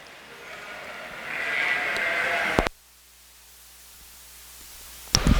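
Yearling ewes bleat at a sheep show, a loud close cry that swells and then cuts off sharply, leaving quiet room hum before a brief clattering noise at the end.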